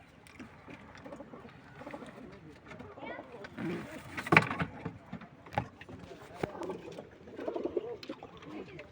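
Racing pigeons in a loft coo softly and intermittently beneath steady nearby talk, with occasional handling knocks and rustles.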